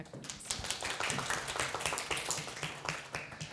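A panel audience at an internet governance forum workshop gives a short burst of applause welcoming a speaker, brisk overlapping claps that are fairly faint and fill the room for a few seconds.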